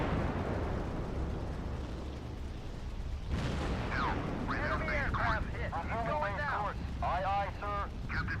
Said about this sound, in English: That's a bunch of enemy bombers just got shot